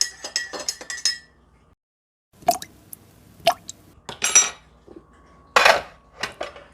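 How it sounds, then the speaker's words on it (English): A metal spoon stirs sugar into a cup of coffee, making a scatter of bright clinks against the cup and a few soft plops, separated by short quiet gaps. "So I can add my sugar and stir without getting coffee and sugar everywhere."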